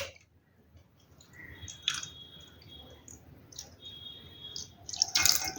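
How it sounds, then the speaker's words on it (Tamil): Water is poured into a bottle during an air-pressure experiment, with quiet trickling and gurgling, a few scattered drips and squishy sounds, and a louder splashing burst near the end. "இப்போ மறுபடியும் பாருங்கள் தண்ணியை ஊற்றுறேன் உள்ளே போகும் பாருங்கள்"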